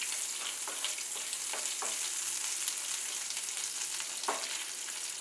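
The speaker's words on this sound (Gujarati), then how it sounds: "આ મસાલાને આપણે ધીમા સારી રીતે બટરમાં શેકી લઈશું।" Dry red chilli, a bay leaf and cumin roasting slowly in butter in a pan, giving a steady, fine sizzle and crackle with a few sharper pops, heard close and alone.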